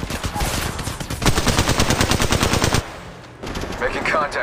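Rapid automatic gunfire in the mobile shooter Apex Legends Mobile, sustained loud bursts of shots that stop abruptly, followed by quieter game ambience and a faint mechanical clatter.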